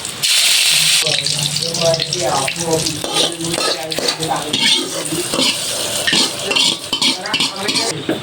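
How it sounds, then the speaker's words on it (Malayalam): Fenugreek, mustard seeds, dried chillies and curry leaves hit hot oil with a sudden loud hiss, then a bubbling, crackling sizzle that fades unevenly over several seconds, close by. "എണ്ണ ചൂടായി വന്നിട്ടുണ്ട്. ഉലുവിട്ട് കൊടുക്കുക, കുറച്ച് കടുക്, ഉണക്കമുളക്, പിന്നെ കറിവേപ്പിൻ്റെ ഇല."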